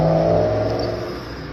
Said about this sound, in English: All the cars are out right now. Every time I try to do a voiceover, there's traffic, traffic, traffic.